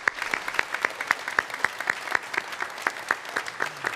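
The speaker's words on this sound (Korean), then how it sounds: "우리 잠깐 일어서시면 우리 박수로 환영하도록 하겠습니다." A church congregation applauds at a Sunday service to welcome a visiting guest from Minnesota. The clapping is fairly sparse and distinct, with individual claps standing out in a steady patter that lasts throughout.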